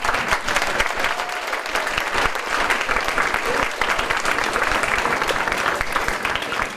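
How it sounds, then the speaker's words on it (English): A crowd applauds models at a fashion show steadily, with dense continuous clapping that holds at an even level from start to finish. "Let's have another round of applause for all of our models."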